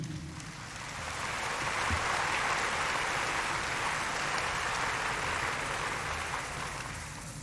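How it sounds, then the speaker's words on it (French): A church congregation at a memorial thanksgiving service applauds visiting diplomats, a broad, steady wash of many hands clapping heard from some distance, rising slightly and holding evenly throughout. "veuillez vous lever sous les applaudissements du peuple de Dieu"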